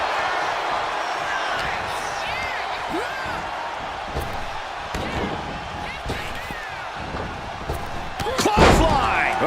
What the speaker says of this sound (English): Clothesline! Oh, that'll leave a mark. Leg drop.